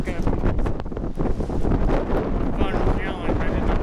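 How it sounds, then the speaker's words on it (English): Strong wind buffets the microphone in a constant roaring rumble, gusting harder in waves throughout. "Oh yeah, it's getting windy."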